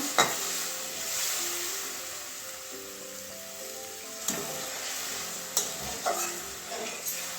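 Water poured into a hot frying pan for a papad and potato curry, a steady broadband sizzle and hiss running throughout with a few sharp spoon clanks against the pan, no talking.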